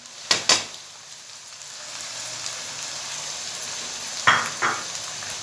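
Ginger, garlic and green chili paste fries with spices in a pan for dhaba-style dal makhani, a steady close sizzle broken by a couple of quick utensil clatters near the start and again toward the end.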